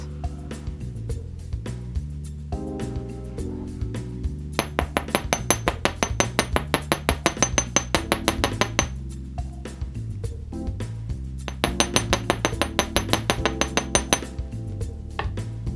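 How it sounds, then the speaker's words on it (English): Rapid metallic tapping rings out in two long bursts of steady hammer strikes on metal earring wire, bright and clinking, over a background of continuous music. "And now I'm ready to hammer it."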